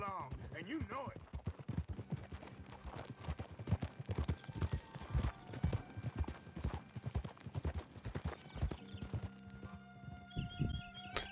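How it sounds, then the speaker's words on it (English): Horse hooves clip-clop in a steady galloping rhythm in Red Dead Redemption 2, close and prominent, with gunfire-like bursts and game sounds mixed in and a voice talking over it. "It's like I ride a big old horse"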